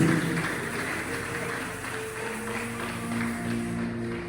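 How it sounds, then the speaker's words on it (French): A church congregation applauding to acclaim the Lord at a French-language sermon, steady crowd clapping from a room full of people, moderately loud and continuous, with voices and tones mixed in beneath. "Est-ce qu'on peut acclamer le Seigneur? Oh là là, acclamons le Seigneur."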